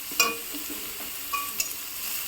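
Onions being fried until slightly charred for a Maggi soup, stirred in a pan: soft sizzle with a few sharp scraping strokes of a spoon against the pan, close by.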